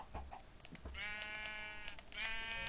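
A sheep bleats twice in the Minecraft video game: a long, wavering, nasal bleat followed by a shorter one. Both are clear and close, after a few soft thuds.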